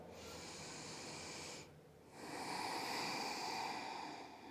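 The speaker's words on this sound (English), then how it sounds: "Let's take one more breath." A slow, deep breath during a dynamic stretching session: a long airy inhale, a brief pause, then a fuller, louder exhale, close and quiet, with no talking.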